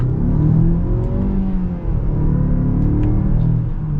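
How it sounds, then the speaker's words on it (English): A turbocharged 2021 Mazda CX-5 Grand Touring Reserve accelerating hard in sport mode, its engine droning loud and steady from inside the cabin, rising in pitch with a brief dip around a shift, with no talk. "Definitely quick with the acceleration with this turbocharged engine"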